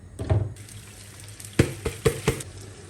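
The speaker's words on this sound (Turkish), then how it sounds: "biraz margarin, biraz da tereyağı aldım. Onlar bir erisin." Margarine and butter in a pan while rice pilaf is being made: a few short bursts of sizzling and clattering stirring with quiet gaps between, close and moderately loud, with no talk.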